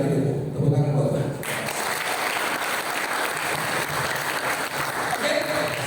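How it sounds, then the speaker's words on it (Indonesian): Dense audience applause at a church youth seminar erupts after a brief quiet moment and continues steadily and loudly to the end, a voice heard briefly before it starts. "Tepuk tangan buat Tuhan"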